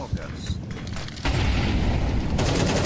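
Counter-Strike AK rifle fire during a BLAST Finals London 2024 esports match, a dense, steady burst of gunfire that grows louder and fuller partway through and runs to the end.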